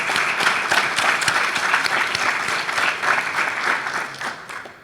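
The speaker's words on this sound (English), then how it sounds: "Please give them a hand" Applause from a symposium audience at a closing keynote, a sustained full round of clapping from a sizable crowd that gradually tapers near the end.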